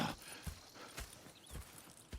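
Hooves clip-clop faintly in Red Dead Redemption 2, with a slow, irregular walking rhythm of soft thuds set over quiet ambient noise and no speech.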